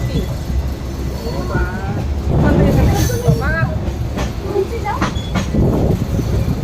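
A train slows into a station with a steady low rumble and clattering of the carriages, loud and close around the listener, while people talk nearby.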